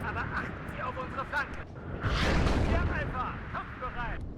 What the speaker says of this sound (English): Artillery still falling on these.